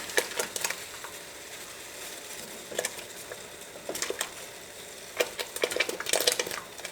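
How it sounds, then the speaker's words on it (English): Clattering splashes and knocks in bursts as pumpkin chunks drop into a pot of boiling water, with quieter bubbling between them. "add these chunks to boiling water"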